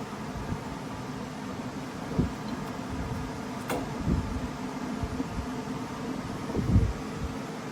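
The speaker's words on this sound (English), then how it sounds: "Sorry for the fan noise." A steady whirring fan hum fills the background, broad and constant, with a few faint knocks and ticks now and then and no talking.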